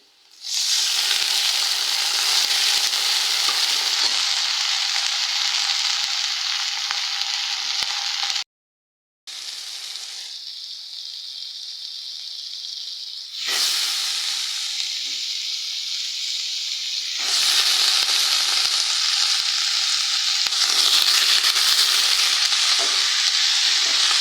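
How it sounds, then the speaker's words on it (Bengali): Green chilies and onion sizzle loudly in hot oil in a wok, a dense continuous hiss that cuts out briefly and then returns with shifting intensity as the pieces are stirred, no voices present. "এখন আমি তরকারি রান্না করব তার জন্য এই যে কাঁচামরিচ পেঁয়াজ দিয়ে"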